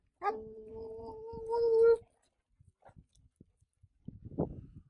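A dog on a lion track gives a long drawn-out howl with a few short yips, loud and fairly close, then falls quiet. Faint scuffling and another brief rough bark-like burst follow.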